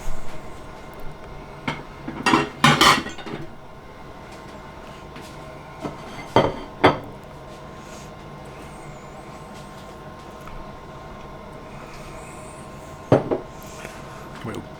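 Rice being served onto plates at home, with scattered clinks and knocks of dishes and utensils, a few sharp clusters among longer quiet stretches and a steady low hum beneath.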